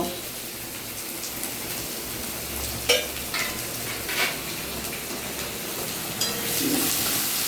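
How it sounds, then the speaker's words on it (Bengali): Chopped onion frying in a pan after nigella seeds are tempered in oil, a steady close crackling sizzle throughout with a few brief scraping stirs, no talking. "পেঁয়াজ কুচিটা দেওয়ার পর একটু ভালো করে ভেজে নেব"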